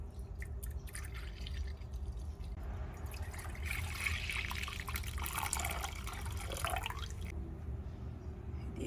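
Full cream milk pours into a bowl as a faint, steady liquid trickle and splash, close but quiet against a low room hum, easing off near the end.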